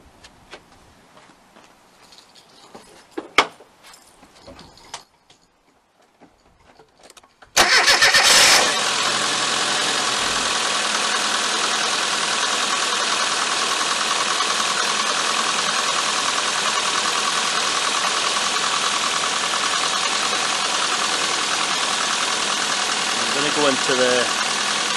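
After some quiet handling noises, a Classic Mini's engine cranks and catches, then settles into a steady, loud idle that continues to the end.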